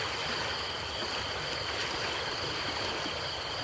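Water rushing and colliding in a stream, a steady continuous wash of broadband flow at moderate level with no voices.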